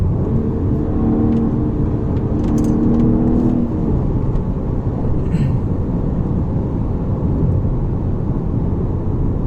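A 2009 BMW 135i turbocharged car drives a twisty road, its engine a steady loud drone with a brief tonal whine early on and road rumble throughout, no talk.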